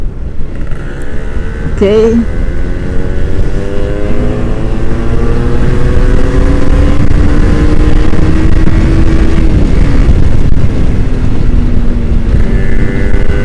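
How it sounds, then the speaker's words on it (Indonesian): An older rider on a Kawasaki Ninja R repeatedly revs the engine, loud and close, with rising and falling tones that sweep up and down. Brief speech is heard. "Dari tadi gebar-geber loh bro"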